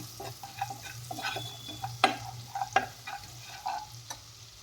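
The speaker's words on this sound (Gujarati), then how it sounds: "સારી રીતે પાછું બધું જ હલાવી" Spoon stirring spiced tomato masala in a pan with salt and coriander-cumin powder, irregular scraping clicks and taps over a low steady sizzle, close and moderately loud, no voices.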